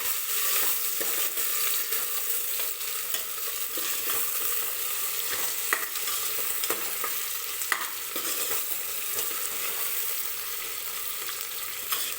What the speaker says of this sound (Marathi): टोमॅटोसुद्धा सॉफ्ट होईपर्यंत आपल्याला तेलामध्ये परतून घ्यायचे आहेत